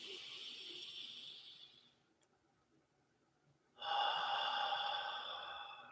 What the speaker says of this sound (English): Breathing in through our nose.